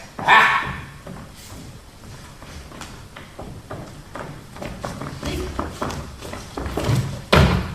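A dog barks in short bursts during a tavern scene of a stage play, mixed with voices, footsteps and other stage sounds at moderate volume.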